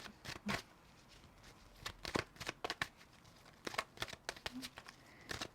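Cards shuffled and drawn for a weekend water-sign reading come through as a quiet run of soft, brief flicks and snaps in irregular bursts, close to the microphone.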